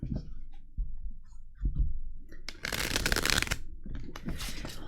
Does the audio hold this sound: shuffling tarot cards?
yes